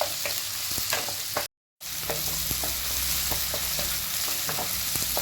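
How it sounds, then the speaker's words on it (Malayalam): Onions sautéing in hot oil and being stirred, a loud continuous sizzle with repeated scraping stir strokes, broken by a brief cut to silence before resuming, no voices. "എണ്ണ ചൂടായി വരുമ്പോ നമുക്ക് സവോള ചേർത്ത് കൊടുക്കാം കേട്ടോ സവോള നന്നായി വഴണ്ടി വരട്ടെ അതുവരെ ഒന്ന് ഇളക്കി കൊടുക്കാം"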